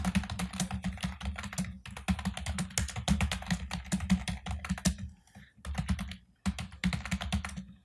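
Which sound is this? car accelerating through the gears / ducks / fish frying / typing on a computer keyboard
typing on a computer keyboard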